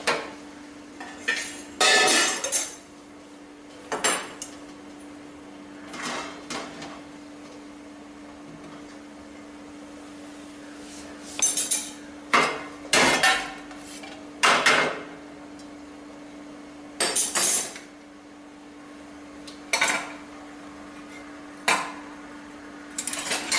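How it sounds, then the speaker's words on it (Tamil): Hot cooked moong dal being mashed in a pan for sweet kozhukattai filling: repeated dull knocks and scrapes of a utensil against the pan, spaced irregularly, no talking. "இதை வந்து நல்லா சூட்டோட இப்படி மசிச்சு விடுங்க."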